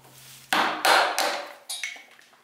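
A large chisel held between spacer blocks is struck with a mallet to cut a woodworking joint: four sharp, resonant knocks spaced about a third of a second apart, each ringing briefly, then fading taps.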